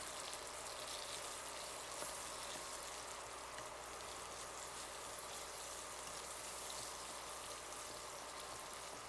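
Food sizzles steadily in a pan while cooking Bicol Express, a continuous dense crackle of frying that stays even and close throughout with no talking.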